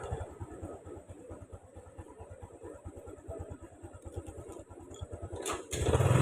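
A motorcycle engine idling at night, a close, steady low chugging pulse with a quick burst of noise near the end as the sound swells louder.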